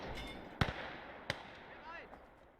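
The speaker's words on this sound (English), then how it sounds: "they are now under light infantry guns fire" Light infantry gun fire in the Gates of Hell Ostfront war game, two sharp distant reports about a second apart over a low rumbling battlefield background.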